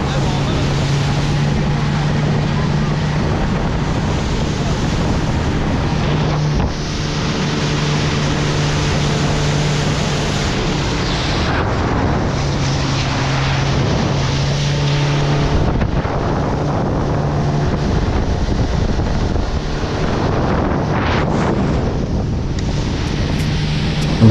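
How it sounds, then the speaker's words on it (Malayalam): A speedboat runs at speed on open water, its engine drone steady and loud under heavy wind buffeting the microphone, with water rushing and a voice breaking in now and then. "സ്പീഡ് ബോട്ട് നല്ല പൊളിയാണ്"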